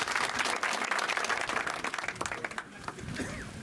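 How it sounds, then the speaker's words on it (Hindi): A crowd at an election rally in a village in Shivpuri claps together in a burst of applause that thins out after a few seconds, heard at moderate distance and fairly quiet. "ताली बजा दो पापा"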